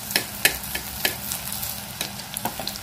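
Aloo paneer kofta frying in hot oil, a steady close sizzle with several sharp crackling spatters and occasional stirring scrapes, no voices.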